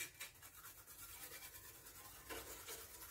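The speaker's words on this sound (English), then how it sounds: "Now use the same toothbrush to clean PCB." A toothbrush scrubbing the back of a Sapphire Nitro+ RX570 graphics card circuit board gives quick, faint, close bristly rasping strokes in an uneven back-and-forth rhythm, with no speech.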